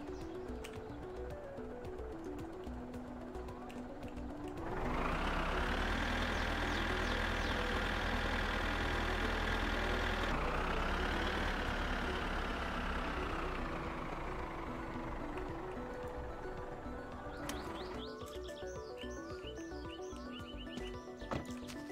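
A tractor engine in the My Summer Car driving game starts up and runs with a loud, steady drone that shifts pitch midway, then drops back to quieter background sounds near the end.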